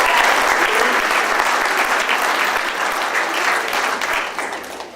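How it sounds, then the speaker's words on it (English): An audience at a Temple Beth Avodah award ceremony gives loud, full applause, many hands clapping close and continuously before the sound thins and fades toward the end. "So a special round of applause for you."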